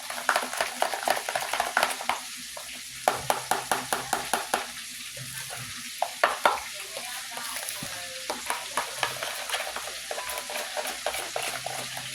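Food is stirred and mixed in a bowl for a creamy pasta salad, with a quick run of close, rhythmic scraping and clacking strokes over a steady background hiss and no talk.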